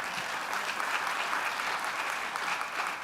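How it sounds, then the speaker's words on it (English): Audience applause at a fall convocation, a steady wash of many hands clapping that fills the whole stretch at moderate loudness with no talk over it. "give them a round of applause."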